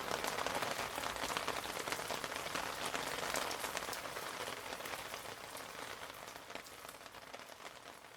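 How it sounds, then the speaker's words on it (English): A steady rain shower falls on outdoor surfaces beside a Recteq smoker cooking chickens, a dense, even patter of drops holding close and moderately loud throughout and easing only slightly toward the end. "And as we expected, another rain shower passing through."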